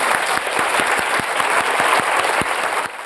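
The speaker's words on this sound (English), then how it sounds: "Could we all give Melissa Benn a massive round of applause?" Enthusiastic audience applause for author Melissa Benn at the Edinburgh International Book Festival: a brisk, even burst of clapping from a full room that continues throughout, with a steady pulse of rhythmic claps underneath.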